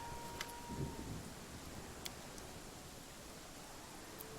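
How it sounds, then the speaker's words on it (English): Heavy rain falls steadily in the fantasy role-playing game Pathfinder: Kingmaker, a constant quiet wash of noise with a few faint rumbles and sharp ticks mixed in, and no voices. "I do appreciate that even though it's raining heavily, we haven't actually been slowed down yet."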